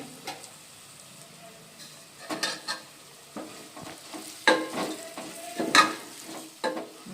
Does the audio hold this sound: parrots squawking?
no